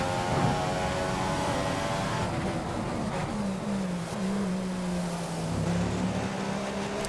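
A Formula One car engine in F1 2015 on the Circuit Gilles Villeneuve in Montreal, droning steadily at high revs with a sustained whine that shifts pitch as the car accelerates and eases off, with no voices over it.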